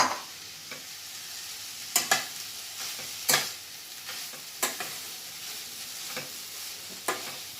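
Vegetable fried rice made with brown rice is stirred in a hot pan, with a soft steady sizzle and a series of sharp spatula scrapes and knocks at irregular intervals, close by and with no voices.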